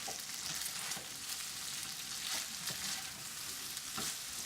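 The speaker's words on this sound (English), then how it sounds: "Continue stirring the beef and pasta together until evenly mixed." Beef and rotini pasta are stirred together in a hot skillet, giving a continuous soft sizzle with faint scraping and clinking strokes recurring every second or so; nothing is spoken.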